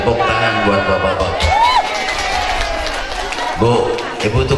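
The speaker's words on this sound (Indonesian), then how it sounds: "tepuk tangan buat bapak-bapak." Crowd at a Maulid Nabi religious gathering applauding and cheering, a broad steady wash of clapping and voices throughout, with whoops and a sung or shouted voice rising over it.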